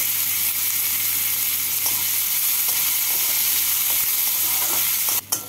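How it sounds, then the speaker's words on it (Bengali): A medium chopped onion fries in hot oil in a pan, a loud, even, continuous sizzle that fills the whole stretch, with a brief stir or clatter near the end and no talking. "এর মধ্যে দিয়ে দিচ্ছি একটা মিডিয়াম সাইজের কুচনো পেঁয়াজ। পেঁয়াজটাকে হালকা লাল করে ভেজে নেব।"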